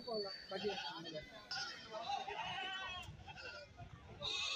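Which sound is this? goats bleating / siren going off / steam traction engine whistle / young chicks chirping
goats bleating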